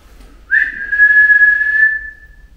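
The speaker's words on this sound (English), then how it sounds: "do you think you could whistle for me?" A single clear whistled note rises briefly and then holds steady for about a second and a half before cutting off, against near silence, in a hotel room at night.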